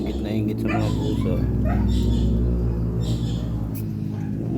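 A dog whimpers and yips in a steady, close stream of high whines while a person talks over it.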